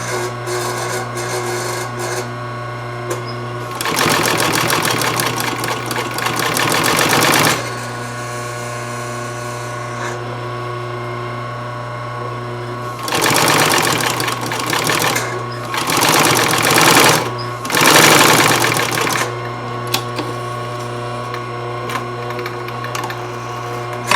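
A sewing machine stitches through material in several loud, rapid whirring bursts separated by pauses, with a steady motor hum running underneath.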